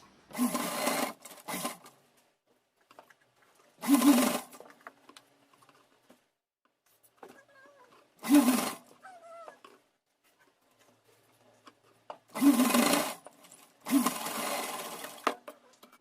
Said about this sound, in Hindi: मोड़ने के बाद यहाँ सिलाई लगा देते हैं।